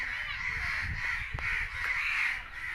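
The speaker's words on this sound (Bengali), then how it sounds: "এখানে দেখেন কাকেদের অবস্থা।" A flock of crows in a Bangladeshi village keeps up a steady chorus of harsh caws at moderate distance, overlapping calls with no pause and no talking.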